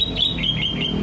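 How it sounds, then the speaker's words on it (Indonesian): Kutilang (sooty-headed bulbul) and jalak suren starling singing together in a duet, with a run of bright, closely spaced chirps and whistled notes over a steady low background hum. "duet antara jalak suren dan kutilang."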